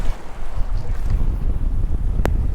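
Strong wind buffeting the microphone at a beach, a steady low roar with gusts and surf noise underneath, loud and close, with a brief sharp click near the end.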